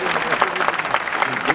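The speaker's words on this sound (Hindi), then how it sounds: "ये जोरदार तालियां हैं।" Loud audience applause at a Bhojpuri stage show, a dense, steady wash of clapping from a crowd that fills the short clip, with voices mixed in.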